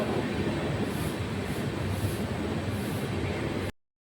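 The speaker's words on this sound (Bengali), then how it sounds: "আমাদের ট্রেন এখন ঢুকে গেছে বর্ধমান জংশনে।" Gour Express rolling into Bardhaman Junction, a steady broadband rumble of wheels and carriages heard from on board, moderately quiet with faint repeating high squeals, then cutting off abruptly.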